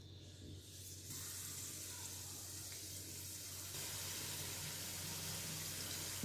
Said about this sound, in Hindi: गुजियाओं को तलने के लिए यहाँ हमने कढ़ाई में ऑयल लिया है।